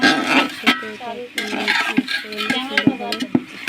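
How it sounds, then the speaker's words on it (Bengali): Khichuri with spinach is stirred in a cooking pot, a soft sizzle under scraping spoon taps and clinks. Quiet talk is heard at the same time. "নাড়িয়ে নেবো"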